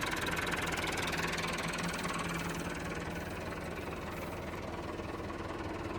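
A tractor engine idles steadily and close by, a dense low rumble with a faint knocking texture that holds at an even level throughout, with no talk over it.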